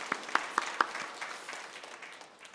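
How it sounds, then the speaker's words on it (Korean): Congregation applause during a Korean church praise service: a few distinct claps at the start fade into soft, diffuse clapping from the room, fairly quiet and without speech. "영광의 박수 한번 올려드립니다"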